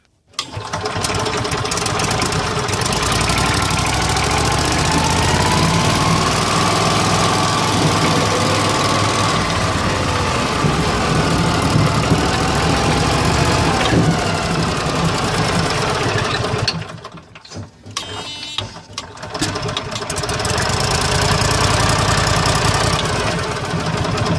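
Toro Workman 2110 utility vehicle with its engine running steadily and loudly while driving, a near continuous drone that dips briefly near the end before picking back up.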